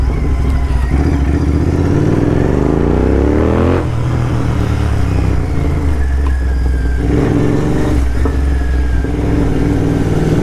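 A Royal Enfield GT650 motorcycle fitted with a loud Red Rooster exhaust revs hard close up, its pitch climbing steeply before dropping back to a rough, throbbing burble with further blips of throttle.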